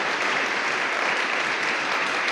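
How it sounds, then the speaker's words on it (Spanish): Loud, sustained applause from a church congregation, thick and even clapping filling the room without a break for a couple of seconds. "Aleluya, fuerte ese aplauso."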